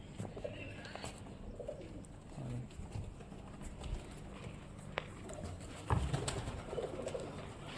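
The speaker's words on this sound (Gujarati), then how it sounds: "કબૂતર." Pigeons coo softly in low, throaty bursts amid quiet background noise, with occasional clopping knocks and faint voices nearby.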